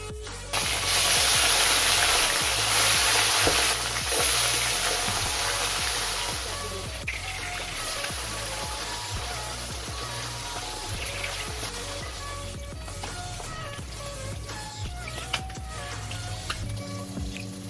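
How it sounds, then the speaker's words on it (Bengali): Bata fish fry in hot oil in a wok, a loud continuous hiss and crackle that starts abruptly and stays steady throughout, close, with a faint tonal background. "এবার কড়াইয়ে তেল ভালো করে গরম হয়ে গেলে মাছগুলোকে লাল লাল করে ভেজে নেব।"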